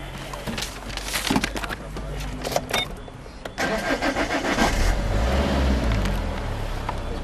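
A 2008 Vauxhall Vectra SRi estate's 1.9 CDTi diesel engine cranks amid a few interior clicks and knocks, then fires up and settles into a steady, close clattering idle.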